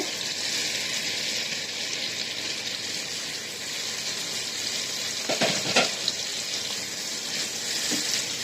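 Previously fried potatoes go into a pan of cooking tomatoes, giving a steady frying sizzle with a short burst of louder clattering and stirring partway through.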